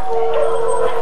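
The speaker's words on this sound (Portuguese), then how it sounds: "Quanto cachorro também aqui, o Ivan." Dogs howling in a hardcore-mode multiplayer shooter match, a sustained wavering tone with siren-like rising and falling pitch, steady and fairly loud throughout with no talk over it.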